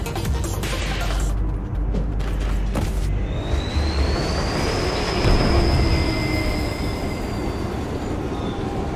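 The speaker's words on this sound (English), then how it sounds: "Sorry, this is the employee train, fellas." A train rolls past close by with a loud, steady rumble of wheels and cars, while a long high-pitched wheel squeal rises and holds over the clatter.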